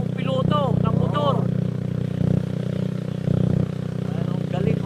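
A motorcycle being ridden in light drizzle gives a steady, loud low engine drone that runs the whole time, with people talking over it.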